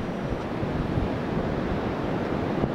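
Pacific Ocean surf rolls at Pacific Beach, Washington, a continuous broad wash of breaking waves mixed with wind buffeting the microphone.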